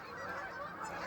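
A goose honking close by, a rough nasal call sustained over about a second amid scattered background noise near water.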